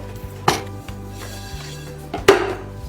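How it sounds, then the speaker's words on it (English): A knife slices peeled potatoes thinly on a board, with two sharp, crisp cuts and a few lighter taps between them, close and without talk. "Peel them and then slice them thinly."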